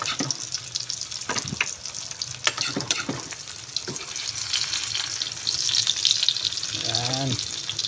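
Eggplant omelette (tortang talong) made from two eggplants fries in a pan with a steady, close sizzle, broken by scraping and clinking of utensils and a short splash of water near the end.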